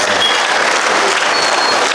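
Dense, loud audience applause fills a Rotary International district gathering, a steady wash of many hands clapping continuously with no speech over it.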